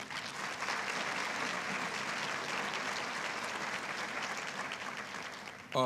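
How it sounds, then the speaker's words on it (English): Audience applause for a school superintendent at a district event, a steady, dense wash of clapping from a large crowd that holds for several seconds before a voice begins at the very end. "let's give Superintendent Groutman another round of applause for her leadership"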